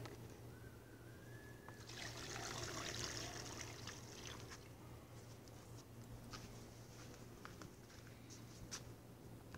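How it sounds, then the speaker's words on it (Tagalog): Water trickling and pattering from a hose or can onto garden plants in hot weather, a steady splashy spray that swells for a few seconds then settles, over a constant low hum. "Dilig tayo halaman."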